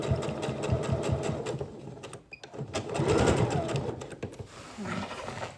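Sewing machine stitching a fold 5 mm from the fabric edge, a quiet buzzing whir in short runs with a brief pause midway, then a louder burst of stitching.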